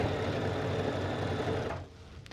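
A sewing machine stitching a Kimball bomber jacket runs close and steady in a fast mechanical whir, then stops abruptly near the end, leaving a faint click or two and no voices.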